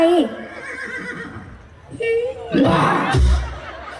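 A horse whinny rings out during a Thai stage comedy performance, a loud neigh amid actors' speech and audience noise, with a brief burst of laughter or chatter following.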